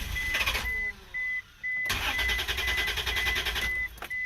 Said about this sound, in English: I'm just going to attempt to start the engine.